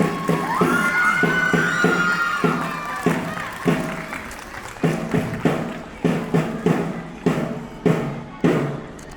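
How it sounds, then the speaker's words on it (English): Crowd applause with sharp, rhythmic claps that turn into a steady beat, and voices carrying over it in the first few seconds. "A huge round of applause for them."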